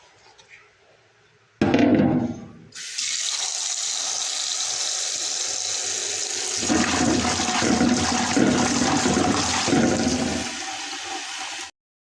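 Jackfruit seeds being washed under a running tap, a steady gush of water beginning with a splash and continuing for about nine seconds before cutting off abruptly.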